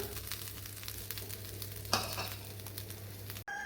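Grated coconut fries in a pan with a steady low sizzle and a soft stir or scrape midway, followed by a brief clatter just before the end.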